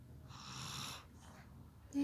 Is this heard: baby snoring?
yes